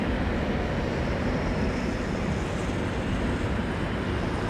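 An Aeromexico airliner lands at London Heathrow in a crosswind, a broad, steady roar of jet noise heard from a distance with wind buffeting the microphone.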